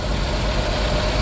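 A 1998 Mitsubishi 3000GT engine idles steadily after sitting for 12 years, a smooth, even hum heard up close with no talking.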